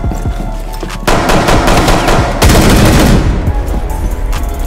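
Rapid automatic gunfire from Rainbow Six Siege, bursts fired through a wall on the Hereford Base map, loud and close, in dense repeated volleys with short pauses between strings of shots.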